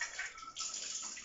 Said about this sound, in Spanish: a medida que el agua se mueve a través de la abertura, su velocidad aumenta